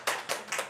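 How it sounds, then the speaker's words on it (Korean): A short burst of audience applause at a live web seminar for a Korean investment fund, a few quick rounds of clapping within under a second, fairly faint. "박수 한번 치시죠."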